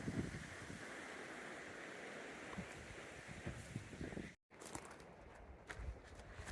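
Fast-moving river in rugged hillside country of pinyon pine, junipers and rocks, a steady broadband rush of water running loud and continuous with wind buffeting the microphone, broken by a brief dropout near the end.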